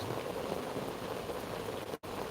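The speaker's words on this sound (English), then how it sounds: "It's raining so loud out here, I can't even hear myself." Loud rain falls outside in a dense, steady hiss of drops that fills the whole stretch, broken only by a split-second dropout near the end.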